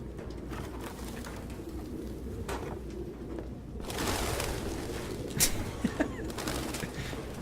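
Pigeons in a PlayStation 4 video game coo and flap, with soft cooing throughout and a surge of wing flutter midway, ending in a few sharp flaps up close.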